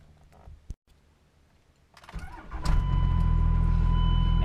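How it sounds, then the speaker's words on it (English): Cummins diesel truck engine cranking and starting after a quiet pause, then settling into a loud, steady close-up idle rumble with a high whine. "So we're going to start the truck up."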